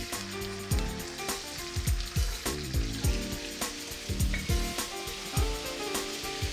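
Dried chilies and onion sizzling in a wok for Chinese chicken cashew, a loud close hiss with repeated metallic scrapes and clanks of stirring in an uneven rhythm.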